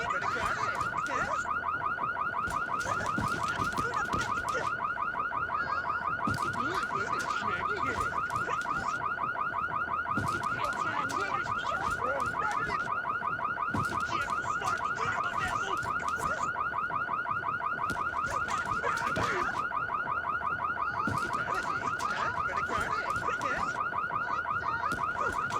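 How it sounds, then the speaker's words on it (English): A burglar alarm rings nonstop in The Sims 2, a steady pulsing electronic siren repeating in even bursts for the whole stretch, loud and close with no talking over it. "Man, am I glad I bought that burglar alarm."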